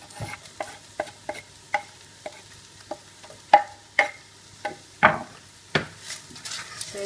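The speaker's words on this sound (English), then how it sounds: "add our chopped onion to the remainder of the oil that's in the" Chopped onion frying in leftover oil in a pan after browning meat, a quiet sizzle under sharp, regular knocks and scrapes of a utensil against the pan.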